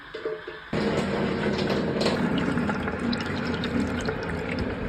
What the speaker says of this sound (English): I'm going to add some water to that, some hot water.